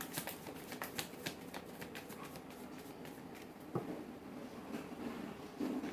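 Tarot cards being shuffled by hand in a quiet indoor space, with soft papery riffles and flicks clustered in the first couple of seconds, then faint scattered card sounds over a low background hum.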